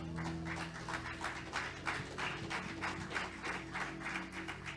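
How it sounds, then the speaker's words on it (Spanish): A church congregation applauding during a sermon, steady rhythmic clapping in unison, moderately distant and fairly soft. "Puede darle un aplauso al Señor."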